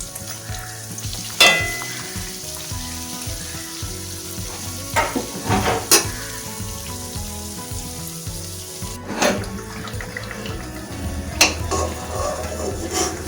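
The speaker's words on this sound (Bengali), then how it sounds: "তারপর তেল গরম করে লো ফ্লেমে মানে কম আঁচে সময় নিয়ে ভালো করে ভাজতে হবে এপিট ওপিট করে" Dahi bora fritters sizzle steadily in hot oil over a low flame, a continuous close frying hiss broken by occasional scrapes and clinks of a utensil turning them in the pan.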